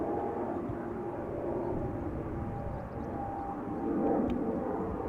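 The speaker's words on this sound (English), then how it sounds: ".737 just took off from runway 24." A Boeing 737 taking off from runway 24 at Amsterdam Schiphol Airport, a distant broad jet engine roar that holds steady and swells slightly toward the end.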